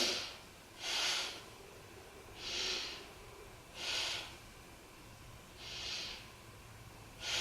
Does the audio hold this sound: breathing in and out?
yes